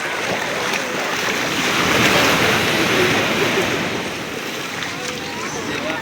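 Loud, steady surf rolls in at Tiruchendur beach, a continuous wash of breaking sea waves and wind that swells slightly midway, with people talking over it.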